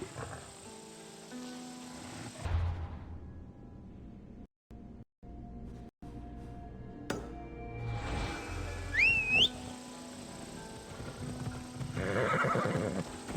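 In Assassin's Creed Odyssey, a horse whinnies loudly with a shrill rising neigh amid steady clip-clopping hooves and ambient game sounds, with brief dropouts in the middle.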